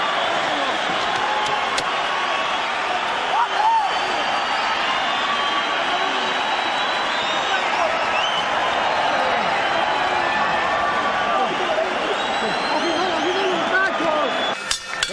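Arena crowd at a Las Vegas boxing match applauding and cheering after a twelve-round 122-pound title bout, a steady loud wash of clapping and crowd noise under continuous announcer talk.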